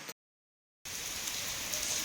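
Heavy rain falls in Upleta, making a steady, dense hiss that is briefly cut to silence near the start before returning at an even level.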